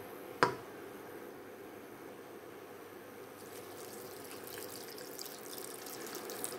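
Small amount of water poured into a pot of chop suey with green beans, a brief splash at the start followed by a faint, low liquid trickle and quiet kitchen background.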